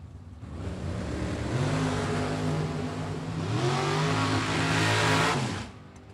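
A 1987 Buick Regal drag car at a drag racing event revs hard, a loud, close engine roar holding steady and then climbing in pitch before dropping away near the end.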